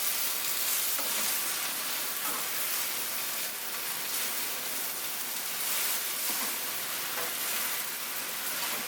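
Noodles and vegetables fry in a pan, a dense, continuous sizzle with faint stirring scrapes, loud and close with no talking.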